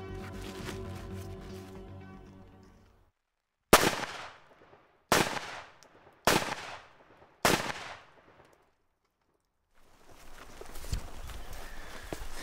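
Rifle firing armour-piercing incendiary rounds at a ceramic armour plate: four sharp, loud shots spaced about a second apart, each with a short decaying tail, standing alone between stretches of outdoor rumble and handling noise.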